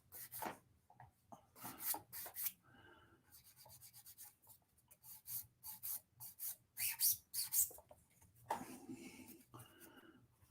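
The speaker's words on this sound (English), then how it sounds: "this old file here, and just work that" An old hand file rasps across a 1/6 scale Space Marine model in short, close, repeated strokes, the scraping pauses between bursts fairly quiet.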